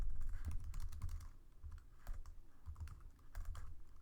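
Rapid clicking keystrokes on a computer keyboard while writing Java code, close and steady in irregular bursts, with no talk.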